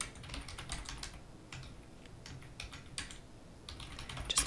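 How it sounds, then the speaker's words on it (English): Quick, irregular keystrokes on a computer keyboard as a search for Randolph County, Indiana history is entered, clattering close and fairly quiet with short pauses between bursts. "So I'm going to type that in."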